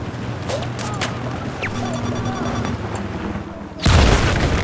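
In Battlefield 4, a Javelin missile strikes the player with a sudden loud, deep explosion near the end. Before it comes a steady bed of gunfire, engine rumble and battlefield noise.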